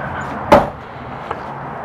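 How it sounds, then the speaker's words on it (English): A storage compartment door on a 2015 Itasca Suncruiser motorhome shuts with one sharp, close thump, followed by a faint second click about a second later. "I'm gonna shut these doors back real quick."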